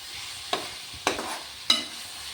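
Mutton biryani ingredients frying and being stirred in a pan, with three short, evenly spaced scraping bursts against a quiet background.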